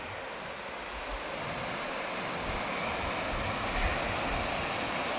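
Rushing mountain water from the slopes beside the Mughal Road in Jammu and Kashmir makes a steady, broad roar with no break and no voices.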